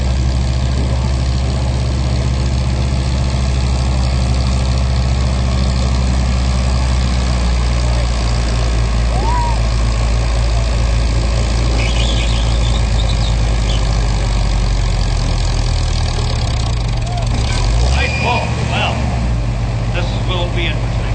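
A tractor engine idles and rumbles steadily at a county fair tractor pull, a heavy low drone running loud and continuous throughout with brief revving bursts near the end, while an announcer talks over it.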